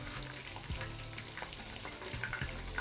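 Chicken pieces for chicken Manchurian frying in oil until crispy make a dense, close crackling sizzle with small spattering pops throughout. The level stays fairly even and there is no speech.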